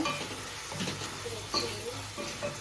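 Ridge gourd curry sizzles steadily in a pan as it fries, a constant soft crackle broken by a few light stirring scrapes and clinks close by.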